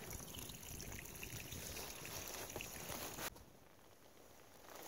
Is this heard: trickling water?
yes